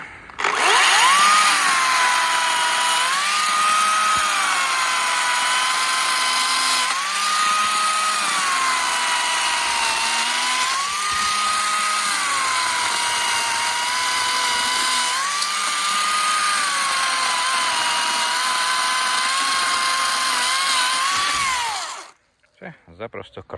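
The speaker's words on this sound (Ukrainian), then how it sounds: "Пилка має величезний запас потужності, якщо різати гілки. Тепер в турборежимі." A Makita DUC254 cordless chainsaw in turbo mode whines loudly and steadily at high speed, its pitch dipping briefly every few seconds as it bites through branches, then cuts off at the end.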